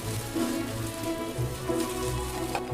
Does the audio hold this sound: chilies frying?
yes